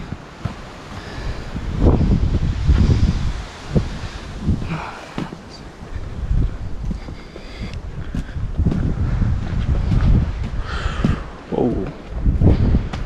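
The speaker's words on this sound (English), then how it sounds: "The wind is what's so scary though." Strong gusting wind at a New River Gorge overlook in West Virginia, loud and buffeting against the microphone with continuous roaring rushes.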